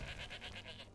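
A goat in Skyrim gives one wavering, pulsing bleat lasting about a second, clear and fairly close.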